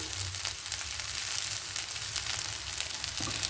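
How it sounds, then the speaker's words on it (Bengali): Ghee sizzles on cumin rice in a pan, a loud, close, continuous crackling hiss that holds steady from start to end with no voices. "এবার উপরটা আর একটু সামান্য ঘি দিয়ে দেবো"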